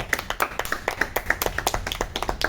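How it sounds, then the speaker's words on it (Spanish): A crowd claps in a steady, dense patter of hand claps, moderately loud, with no talking over it. "un aplauso para ellos"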